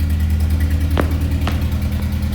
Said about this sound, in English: that's the car that I bought. So it's currently idling because I had to run it.